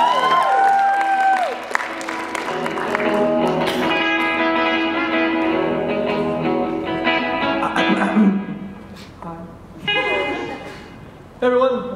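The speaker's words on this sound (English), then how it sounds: "A big round of applause for Michael Kilbride." At a live storytelling event, the audience applauds and cheers as the storyteller comes to the stage, a crowd roar mixed with reverberant PA effects and a voice speaking over it.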